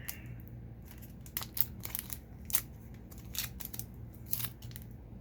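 Scissors snipping open the card packaging of a Medicom Toy Series 43 blind box, several short close cuts with light crinkling of paper between them.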